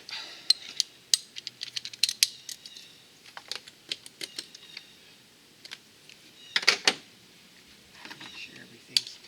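A ratchet tightens a fuel injector in a Chevy Cruze engine bay, giving quick irregular clicks and metallic ticks in short bursts over several seconds, close up, with occasional handling clatter.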